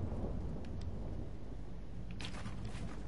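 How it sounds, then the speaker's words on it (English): Video game thunderstorm with a steady roar of rain and rumbling thunder, dense and continuous, with no voices. "What the hell was that storm?"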